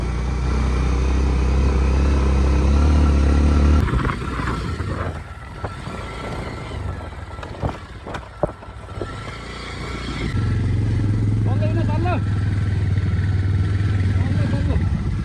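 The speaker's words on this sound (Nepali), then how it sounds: "बाटो एकदम बिजोक छ यहाँ स्कुटी बल्ल बल्ल हिँडालिन्छ मेरो स्कुटर" A scooter engine drones while riding a very rough road in Sansarkot, Baglung, loud and close at first, dropping away midway amid jolts and knocks, then returning, with people talking over it.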